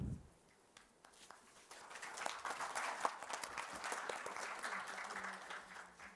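An audience at a vaccine cooperation forum on the Indo-Pacific region applauds, quiet at first and then swelling into sustained clapping across the hall that continues steadily. A voice is heard faintly at the start.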